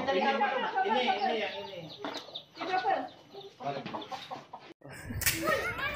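A hen clucks repeatedly near a cardboard box at a house while laying eggs, the calls close and irregular, with a sharp rustle near the end.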